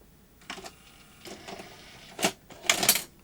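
A Sanyo Beta HiFi video recorder ejecting a tape produces a series of faint mechanical clicks and whirs that build to two louder clunks at the end, close up.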